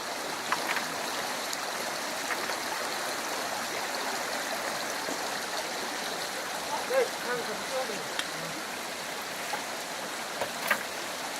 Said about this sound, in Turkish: Köyümüzde şelale var.